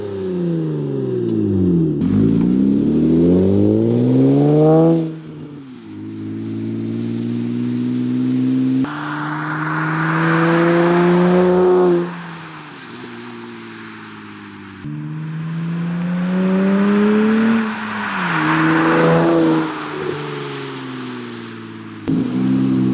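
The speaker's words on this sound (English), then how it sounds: "we're gonna get some exhaust clips here" A V6 six-speed Honda Accord with mostly factory exhaust piping and dual 3-inch tips revs repeatedly, its note climbing and falling through several strong throttle blips and sustained holds, loud and close with no talking.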